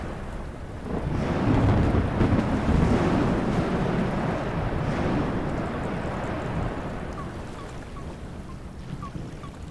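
Thunderstorm at sea with lightning in a video game: a heavy, continuous roar of rain and rolling thunder swelling early and holding loud, with wind-driven surf beneath and no voices.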